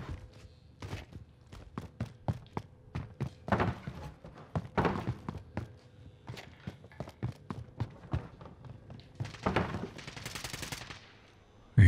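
Gunfire crackles in the shooter game Warzone 2.0, scattered single shots and short rapid bursts at varying distances, mixed with thuds and footsteps, ending in a dense volley and a final loud hit.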